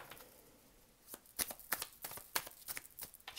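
Tarot cards are shuffled and drawn after a second of near silence: a run of crisp, close riffles and soft slaps in uneven bursts, quiet overall, with no voices.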